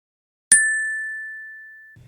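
A single bright notification bell dings once after silence, its clear tone ringing out and slowly fading, heard alone.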